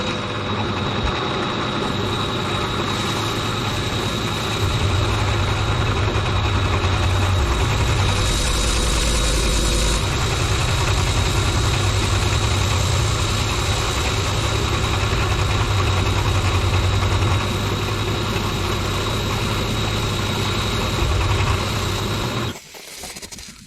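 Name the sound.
small air compressor running for lathe coolant mist system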